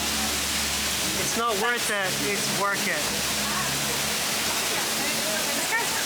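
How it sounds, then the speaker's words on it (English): Heavy downpour of rain on a New York City street, a steady dense hiss throughout with people talking briefly over it near the start. "now it's like pouring rain"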